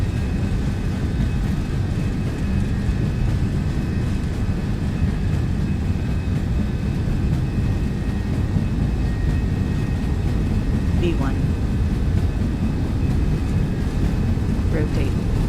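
MD-11F jet engines roar at takeoff thrust during the takeoff roll in X-Plane 12, a loud, steady broadband rumble that holds constant throughout.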